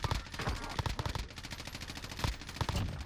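Rapid automatic gunfire from a Warzone battle royale match, loud bursts of repeated shots cracking close by in quick uneven volleys across the whole stretch, with no talking over it.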